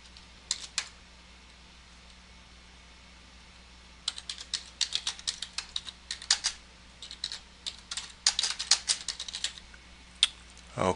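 Bursts of clicky keystrokes on a computer keyboard as a file name is typed, a short flurry near the start, then a dense run of quick taps after a pause, close and fairly crisp over a low steady hum.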